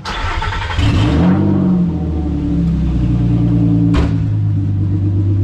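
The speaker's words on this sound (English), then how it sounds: "Accelerator pedal. Nice even idle." A Nissan Xterra race truck engine turns over and settles into a loud, even idle nearby, with a low steady rumble and a brief sharp blip of revving partway through, no voices heard.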